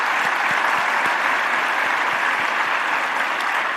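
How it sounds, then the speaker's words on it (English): An audience at a conference plenary session claps together in a dense, steady round of applause that fills the hall evenly from start to finish. "let us clap and then thank Sadhguruji for this"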